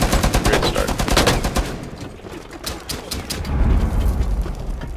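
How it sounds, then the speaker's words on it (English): Rapid bursts of automatic gunfire in Rainbow Six Siege, a hostage team deathmatch on the Bank map, crackle loudly and densely through the first seconds, ease off, then build again into sustained firing near the end. "No, I opened fire."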